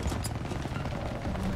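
MG42 machine guns firing in the World War II shooter Call of Duty WW2, a dense, continuous roar of rapid gunfire with heavy low rumble and no break, loud and close.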